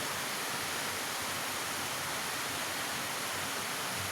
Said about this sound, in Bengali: দেখো আলু আর পেঁপেটা ভালো করে ভাজি ভাজি হয়ে যাচ্ছে।